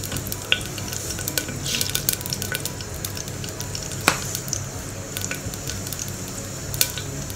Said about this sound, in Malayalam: അങ്ങനെ വെളിച്ചെണ്ണ ചൂടായിട്ടുണ്ട് ഇതിലേക്ക് കടുക് ഇട്ട് കൊടുക്കാം